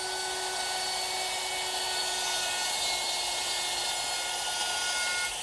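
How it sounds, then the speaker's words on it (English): A wood router fitted with a dovetailing bit runs steadily while cutting a wooden chair-table seat, giving a continuous high whine with a constant tone throughout, fairly quiet and with no talk. "Using my router, which is equipped with a dovetailing bit"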